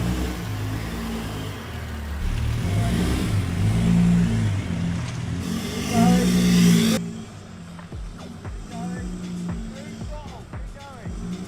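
A VW Touareg driven flat out up bumpy off-road steps, its engine droning and revving under the rattle and thumps of the suspension, with people talking over it, then the engine noise eases.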